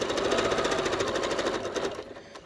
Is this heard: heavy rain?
no